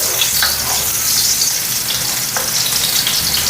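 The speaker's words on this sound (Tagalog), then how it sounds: "So, ngayon ay mag-isa tayo ng bawang." Garlic sautéing in a pan for a kare-kare sauce, a loud, steady frying sizzle with occasional spatula scrapes, close and without speech.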